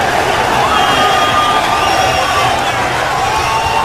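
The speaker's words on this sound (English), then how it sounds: "we are set in front of an enthusiastic crowd here at the Arco Arena" Enthusiastic crowd noise fills the Arco Arena before a bantamweight championship boxing match, a steady, dense roar of cheering and babble held at an even loudness throughout.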